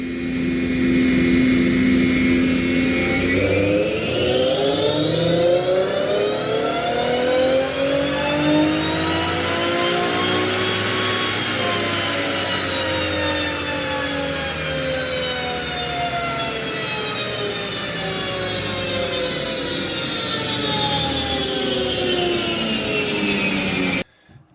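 A Nissan 370Z engine runs in a workshop after a fuel pump change, revving up in one long smooth sweep that rises and then slowly falls back, loud and close with no talking, cutting off abruptly at the end.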